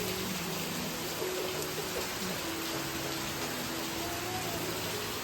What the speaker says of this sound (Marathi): एवढा जोरात पाऊस चालू इकडे बाहेर